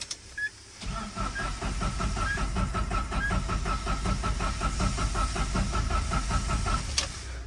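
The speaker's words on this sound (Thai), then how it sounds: "รถ สตาร์ท ไม่ ติด อ่า สตาร์ท ไม่ ติด นะ" A car engine cranks over and over at a steady rhythm without catching, the starter whirring continuously for several seconds before stopping; the car was recently bought and has a knocking noise.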